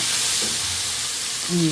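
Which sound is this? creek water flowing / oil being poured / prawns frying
prawns frying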